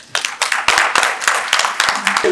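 At a conference session, a small audience claps for a professor in a burst of close, crisp hand claps that settle into a steady rhythm.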